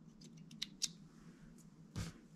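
Small scissors cut black nano silk tying thread at a fly-tying vise, a few faint light clicks followed by one firmer snip, close and quiet with no talking.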